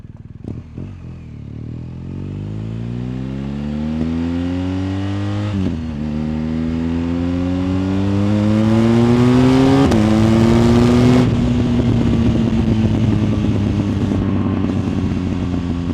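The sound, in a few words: motorcycle aftermarket exhaust revving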